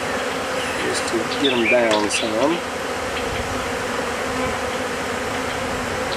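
Honey bees buzz steadily around an open hive during a massive swarm catch, a dense close drone under a voice, with a louder swell of activity near the middle.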